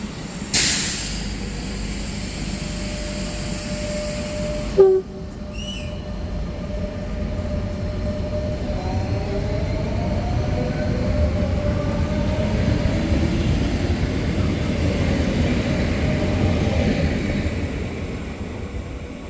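A Rodalia commuter train at a suburban station near València passes through with a steady rolling rumble and hiss. A short sharp horn-like blast rings out early, and faint tonal squeals follow as the train moves, with no voices heard.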